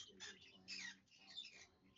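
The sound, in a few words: pet bird calling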